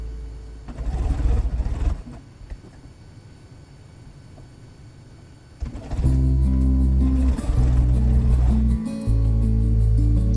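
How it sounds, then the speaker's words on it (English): A sewing machine chain-stitches quilt block pieces for a boot block, a soft mechanical whir in short bursts, then a louder, steadier run with a pause near the end, heard close. "I'm just doing a little bit of chain stitching there"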